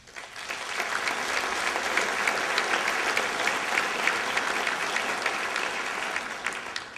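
Sustained applause from a large crowd at a mayoral inauguration in Fall River, steady and enthusiastic clapping throughout, fading slightly at the end.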